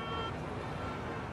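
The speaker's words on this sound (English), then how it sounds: "Honking horns peaked at 90 decibels." A car horn toots amid a steady wash of loud city traffic noise measured around 80 decibels, the horn peaking near 90 decibels.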